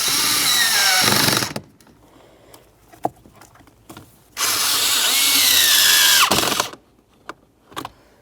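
A power driver with a 7mm socket snugs an AC compressor mounting screw on a 2006-2011 Honda Civic: two loud, sustained whirring bursts, one short and one about two seconds long, with quiet clicks and taps between them.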